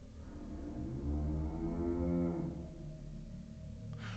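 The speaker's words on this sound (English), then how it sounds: "Why are cows in our school?" Cows moo in a video game, with one long, low, drawn-out bellow swelling and fading over a steady background hum.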